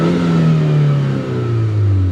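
A 2009 Chevy Cobalt SS turbo engine accelerates hard, a loud, close droning note sweeping steadily downward through a gear before rising again.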